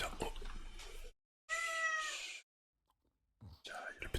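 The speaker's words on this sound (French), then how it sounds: "il y a le petit chat qui miaule." A small real cat lets out one clear, drawn-out meow close by, set between soft whispered speech before and after it, with short silent gaps around the call.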